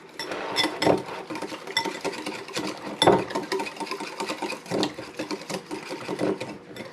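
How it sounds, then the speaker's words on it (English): Whisk clattering steadily against a bowl while mixing a salad dressing, a busy run of close scraping and rattling strokes with a few louder knocks, no talking. "Okay, we're going to whisk this up."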